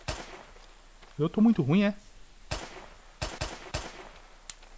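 Gunshots ring out in the survival shooter DeadKind: Survival Project: sharp, separate cracks, one near the start and several more later in the clip, with someone speaking briefly between them.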